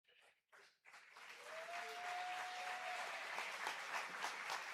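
After a few brief sounds, a crowd at a South Carolina Democratic state convention breaks into steady, broad applause as a candidate heads to the stage, with a thin whistle-like tone rising over the clapping.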